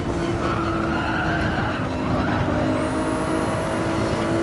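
Tires spinning and squealing under early throttle on a race car in Gran Turismo 7, a steady engine drone with a continuous skidding screech, loud and close.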